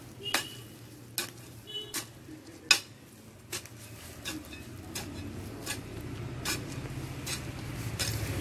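Potting soil mixed by hand for planting tapioca in a small space: quiet rustling and scraping with a string of sharp clicks and taps spaced about a second apart, close by and without any talking.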